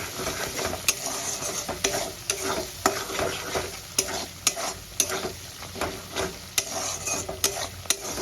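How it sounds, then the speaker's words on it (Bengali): Vegetable korma masala with cashew nuts is stir-fried in a pan over low to medium flame, a steady close sizzle broken by repeated scraping and tapping strokes of a spoon, with no talk. "এবার ভালো করে আমি কষিয়ে দিচ্ছি।"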